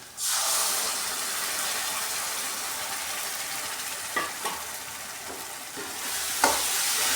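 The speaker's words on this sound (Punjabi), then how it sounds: "ਇਹਦੇ ਵਿੱਚ ਅਸੀਂ ਪਾਵਾਂਗੇ ਜਿਹੜਾ ਬੇਸਨ ਅਸੀਂ ਘੋਲ ਕੇ ਰੱਖਿਆ ਇਹਦੇ ਵਿੱਚ ਪਾ ਦਾਂਗੇ" Gram flour batter for Punjabi pakora kadhi is poured into hot oil tempering in a pan. It gives a steady, loud, close sizzling hiss, broken by a few ladle clicks and scrapes as it is stirred.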